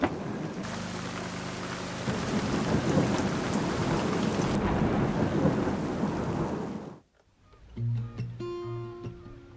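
A thunderstorm on Fair Isle: heavy, loud rain hammers down with rumbling thunder for several seconds, then cuts off to quiet dripping and a few tonal knocks.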